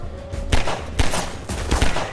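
Three spaced bursts of gunfire from the video game Half-Life 2 go off about half a second apart, each a loud sharp blast with a short rumbling tail, with no talk.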